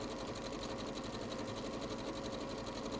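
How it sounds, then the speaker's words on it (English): A sewing machine runs fast and steady, stitching a line of even gathers into fabric, its dense whirring continuous and close for the whole stretch with no talk. "Oh, a bit of speed sewing there"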